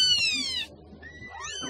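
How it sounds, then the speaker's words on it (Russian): A mother cat with kittens gives short high meows, a couple of close, clear calls in quick succession. "У нас здесь уйма нелепых котят и мама-кошка, воспитывающая осиротевшего бельчонка."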